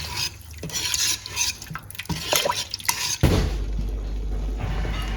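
Pineapple pie filling stirred in a pot on the stove, with wet swishing and spoon scrapes, then a steady low bubbling and rumble as the mixture heats, with no talk.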